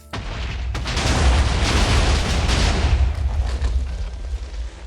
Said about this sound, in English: let's use explosion over here on this little tiny piece of TNT